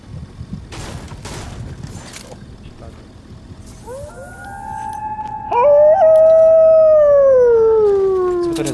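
Wolves in the Fortnite video game howling, a long rising then falling tonal howl that grows loud and near, preceded by scattered clicks and game noise.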